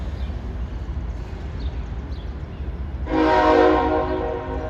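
A westbound train's horn blasts near the halfway point in Harrisburg and holds for a couple of seconds over a steady low rumble of passing rail traffic.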